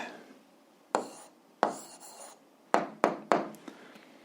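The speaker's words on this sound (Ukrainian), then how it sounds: "Записуємо відповідь." A pen writing an answer by hand on paper in a quiet room, a few separate close scratching strokes spread over several seconds.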